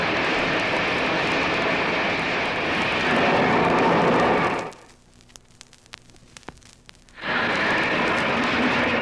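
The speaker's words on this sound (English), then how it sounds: "that is the sound of the stoker as it fires steam and coal into the boiler of" The coal stoker of Maine Central steam locomotive 470 roaring as it fires steam and coal into the boiler, a loud continuous rushing roar that cuts out for a few seconds and then resumes at full strength.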